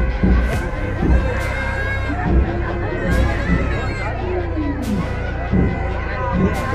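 A dense crowd at the Salawas village Mataji temple fair fills the air with continuous overlapping chatter and occasional raised voices, loud and close all around.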